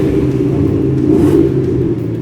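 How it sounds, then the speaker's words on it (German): A Mercedes-Benz SL's 2.3-liter supercharged engine revs with a steady, loud rumbling drone and a faint whirring rise from the compressor, close by and alone, with no talking. "I can hear sometimes that is the compressor when I accelerate"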